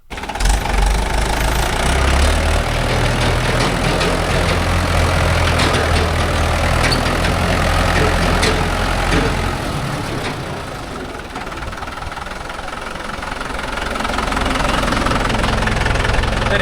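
A Mahindra 415 DI tractor engine idles close by at a workshop, a steady loud diesel knocking chug that holds throughout, dipping slightly midway before rising again.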